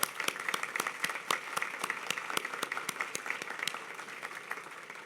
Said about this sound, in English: I'd like a round of applause for her, please, and the staff